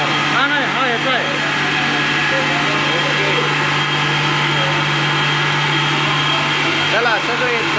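A fire pump engine runs at a fire-safety demonstration, giving a loud, steady, even hum that holds for the whole stretch while people talk nearby.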